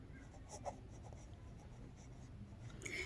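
A maths teacher writes out the area-of-a-square formula by hand, producing faint, soft scratching strokes in short bursts over quiet background hiss.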